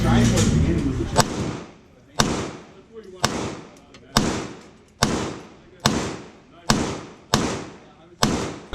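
Ten-round string of gunshots at a shooting range, loud, sharp reports spaced roughly one second apart, each followed by a short decaying echo, while an instructor speaks between shots.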